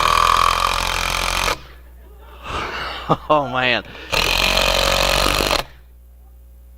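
An impact driver sinks a 3-inch screw into a 2x6 board on a church stage, two loud sustained rattling bursts of hammering impacts separated by a short spoken exclamation.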